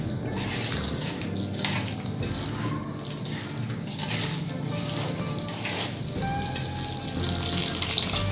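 Water poured over rice bran being prepared as catfish feed, a steady rushing splash and gurgle with a bubbly hiss running unbroken throughout.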